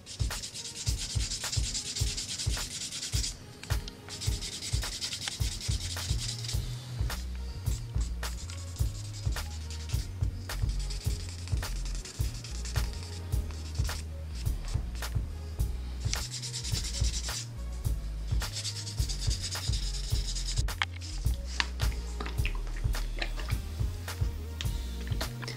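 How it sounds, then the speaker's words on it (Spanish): Steady rhythmic rubbing of fine sandpaper over leather edges, a close, continuous scratchy back-and-forth stroking with regular bursts, heard alone without talk. "Ya le dimos la lija gruesa, ahora vamos a darle la lija más fina."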